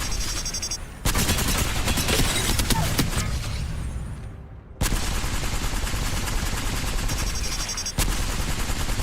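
Rapid automatic gunfire from a care package weapon in Apex Legends, loud sustained bursts of shots with brief pauses between strings, nearby and dominant.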